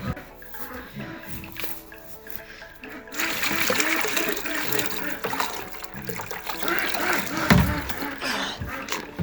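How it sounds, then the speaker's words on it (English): Water is poured out for an animal on a farm, with splashing and trickling that starts partway through and carries on unevenly. A person talks nearby at intervals. "There's you some water, Fern."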